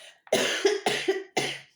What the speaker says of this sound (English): I've still got this niggly cough.